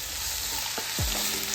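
Chopped tomato, curry leaves and ginger fry in a hot pan, giving a steady broadband sizzle throughout, close and fairly loud, with a couple of brief stirring scrapes partway through and no talking.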